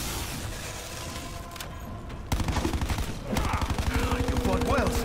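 Gunfire in a zombies video game as the last of the ammo runs out: a dense, rapid string of loud shots erupts partway in and keeps pounding until the end, with a voice talking over it.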